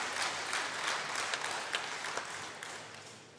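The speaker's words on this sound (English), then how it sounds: "Home crowd urging on their player." At a European table tennis Champions League Final Four match, the home crowd in the arena breaks into loud applause that gradually tapers off, with sharp individual claps standing out from the wash.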